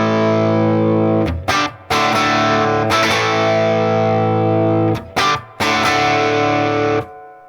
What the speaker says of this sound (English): Strumming a couple times before he hits you with that big chord on the first beat of the measure.